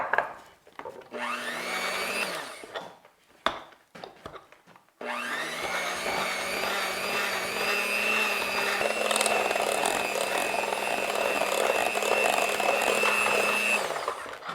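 An electric blender whips cupcake icing made with powdered sugar and orange zest. It starts with a few short loud bursts, then runs as a steady, close, continuous whir until it cuts off at the end. No one speaks.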